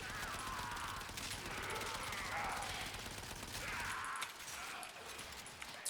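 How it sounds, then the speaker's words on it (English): Primary fire from the Aeolak rifle in the video game Warframe pours out as a dense, continuous rattle of rapid shots with scattered impact crackle, loud and steady before easing slightly near the end, with no talking. "I'd rather just position myself to line enemies up and just go to town with my primary fire on them."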